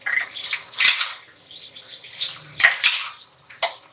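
Metal spoon scraping and clinking against a cooking pot while stirring kachnar keema, bright uneven scrapes in a few short bursts separated by quieter moments.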